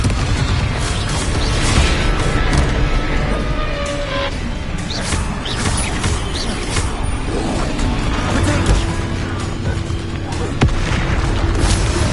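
Spell explosions in the Hogwarts Legacy video game: Bombarda and Confringo blasts boom one after another over a dense, continuous wash of game combat noise and rumble.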